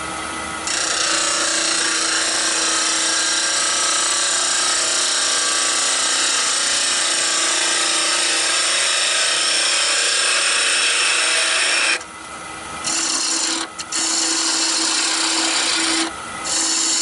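A wood lathe turning yew with a diamond parting tool, giving a long continuous harsh scraping hiss over the motor hum, briefly broken by short pauses near the end.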